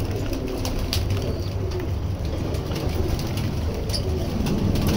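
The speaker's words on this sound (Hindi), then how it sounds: "ये बजराई कबूतर" Bajrai pigeons coo softly and repeatedly in a home loft, low murmuring calls layered with light background noise and occasional faint clicks, with no speech.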